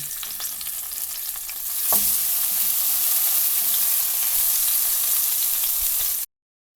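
Zucchini slices fry in a pan with a loud, continuous close-up sizzle; a brief clatter of stirring near the start swells the frying noise before it cuts off abruptly.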